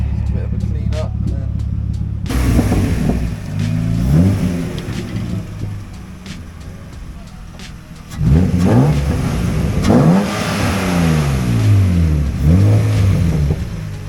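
A car fitted with a BMW 2.8 M52 TU straight-six from an E36 revs repeatedly, engine note rising and falling in several bursts after an idle start, with people talking over it.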